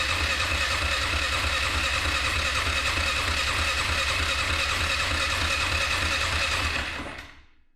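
After a carburetor rebuild, a 2001 Polaris Scrambler 500 ATV engine runs loud and steady up close with a buzzing, even drone, then dies away to silence in the final second.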